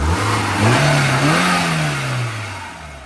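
The petrol engine of a 2006 Maruti Gypsy jeep revs up, holds a steady drone, then eases back down, with a broad rushing radiator-fan hiss running throughout.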